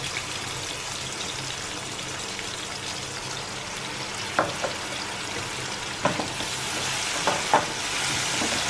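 Onions fry in a pan with a splash of vinegar and dark soy sauce, a steady close sizzle with a few clinks and stirring knocks from a utensil, no talk.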